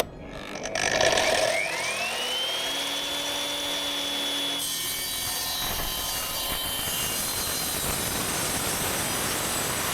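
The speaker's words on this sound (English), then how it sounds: "I'm gonna start cutting now." A power saw spins up with a rising whine and then bites into timber for a shed frame, the cut settling into a sustained, rough grinding that carries on to the end.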